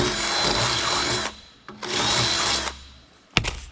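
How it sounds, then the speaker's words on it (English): Power drill spinning a bit through corroded flanges and clamps to clean out buildup, two sustained loud grinding bursts separated by a brief pause, followed by a short sharp clunk. "Now I'm running a drill bit through there to clean the crap out."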